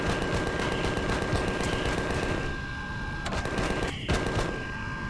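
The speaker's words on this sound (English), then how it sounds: "So then we can use the Gatling guns." Gatling gun turrets in the video game Empyrion Galactic Survival fire a dense, unbroken stream of rapid shots that grinds on loudly for several seconds, then thins briefly before resuming.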